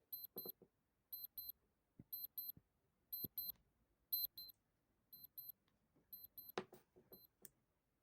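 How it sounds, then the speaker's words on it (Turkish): A North Pacific camping wristwatch alarm sounds thin, high double beeps repeating in a regular pattern, mixed with faint clicks and handling noise close by. "Ve alarm nasıl çalıyor ona hepimiz birlikte göreceğiz."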